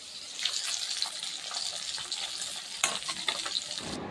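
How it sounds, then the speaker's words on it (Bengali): Fish frying in oil crackles with a soft, continuous sizzle broken by small pops, heard fairly faint and close without any talking. "মাছ ভাজতেছি"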